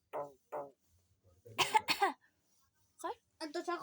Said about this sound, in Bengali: হ্যাঁ এরকম করে কাশতে হয়।